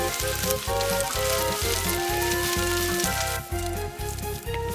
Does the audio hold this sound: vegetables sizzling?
yes